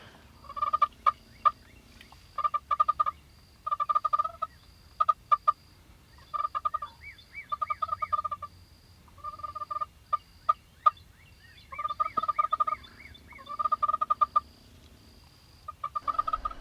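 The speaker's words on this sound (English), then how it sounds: "we hear a gobble, just single gobble, what we feel like is about 300 yards away" Wild turkey gobbling repeatedly from far off, around 300 yards away, during a turkey hunt in Oklahoma; several bursts of rattling gobbles separated by short pauses, with faint clucks and chirps in a quiet outdoor setting and no talking.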